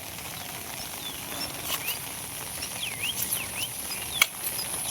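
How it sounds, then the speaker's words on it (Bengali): Steady rain falls outdoors in the morning, a faint, even hiss of patter with occasional bird chirps on top and no voices. "যাক বৃষ্টির গতি আস্তে আস্তে বাড়তেছে"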